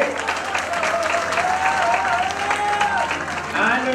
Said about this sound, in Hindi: एक बार हमारा पूरे थिएटर प्ले की कास्ट के लिए जोरदार तालियां हो जाए